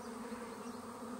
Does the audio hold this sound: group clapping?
no